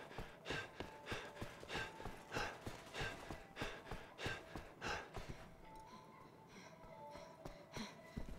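Heavy, rhythmic breathing from characters in Resident Evil 6, a steady series of panting gasps roughly every half second, fairly close, fading into quieter game ambience with soft tones toward the end.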